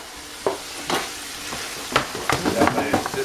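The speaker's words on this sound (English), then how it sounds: "Got my assistant stirring up my sausage there." Breakfast sausage frying in a pan while being stirred, soft sizzle under a run of spatula scrapes and clacks that grow busier toward the end, close and moderately quiet.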